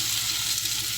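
Tomatoes and green chillies hit hot oil with fried ginger-garlic, giving a dense, steady sizzle that fills the moment without any talk.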